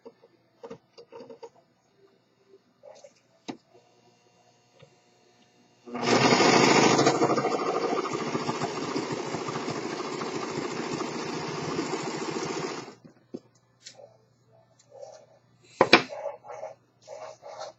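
A Singer Professional Pro 5 serger combo machine runs steadily for about seven seconds, a dense whirring stitch drone that starts and stops abruptly, with quiet handling clicks before and after.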